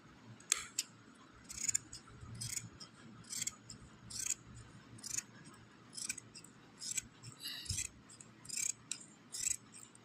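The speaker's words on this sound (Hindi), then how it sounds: "एक हाथ से मैं कैंची चला रही हूँ" Scissors snip through fabric for ladies' palazzo pants in a quick series of crisp, close metallic cuts, about a dozen strokes at a fairly regular rhythm over a quiet room.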